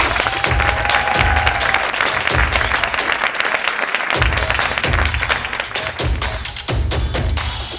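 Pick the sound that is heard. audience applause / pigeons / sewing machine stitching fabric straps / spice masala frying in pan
audience applause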